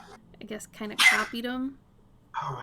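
A single sharp sneeze from a person bursts out briefly between stretches of casual conversation, with talking just before and after.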